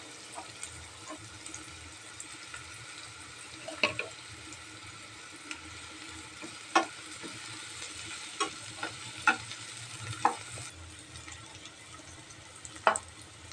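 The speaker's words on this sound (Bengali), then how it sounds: "মরিচ পেঁয়াজকে আমি তেল দিয়ে ভেজে নেব" Chilies and onions frying in oil while cooking egg bhuna, a steady low sizzle with scattered sharp spatters and stirring clicks throughout, close and moderately quiet with no talk.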